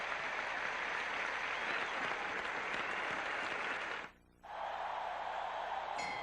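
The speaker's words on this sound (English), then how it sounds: "Listen to this crowd." A tennis crowd at Forest Hills applauds loudly and continuously in dense clapping, cutting off abruptly for a moment and then swelling straight back in.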